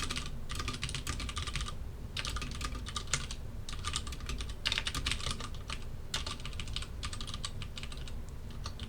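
Rapid typing of C++ code on a computer keyboard during a programming lecture, dense clattering keystrokes in bursts separated by brief pauses, close and continuous, with no speech.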